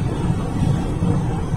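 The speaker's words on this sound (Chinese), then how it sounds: "只先听到风切声" Steady low rumbling wind and road roar inside a 29-year-old 3.0-litre Toyota Camry cruising at 120 km/h on a highway, a continuous dense drone with no engine note standing out and no talking.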